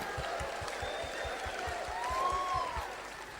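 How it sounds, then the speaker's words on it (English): An audience claps along in time: regular rhythmic claps about every quarter second over a murmuring crowd, with a faint tonal whistle sliding through the middle. "Come on, guys, clap with me."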